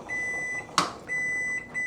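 A kitchen timer sounds a steady electronic beep that runs on for a stretch, breaks off with a short clatter, then resumes beeping loudly while dinner cooks.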